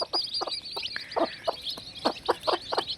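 A hen clucks close by in short, regular bursts among a brood of newly hatched chicks, whose high thin peeping runs continuously underneath.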